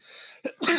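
A single sneeze sounds close by, a sharp breathy intake followed by an explosive burst, short and loud with nothing else around it.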